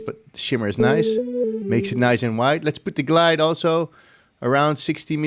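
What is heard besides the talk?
No everyday noise stands out behind the speech.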